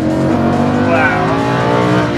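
Lamborghini Huracán engine revving hard at high RPM, a loud continuous roaring whine climbing in pitch without a break.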